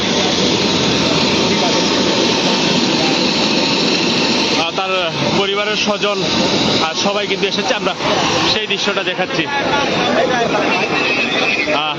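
Steady engine roar, like a helicopter idling nearby in Sylhet, runs throughout while people talk over it.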